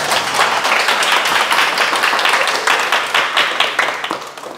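Dense, steady applause from a lecture audience, many hands clapping continuously at close range, with no voices over it.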